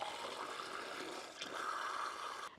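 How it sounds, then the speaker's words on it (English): Water running steadily from a tap into a container during indoor building work, a soft continuous splashing rush that stays even throughout and stops abruptly at the end. "A very useful tap, that."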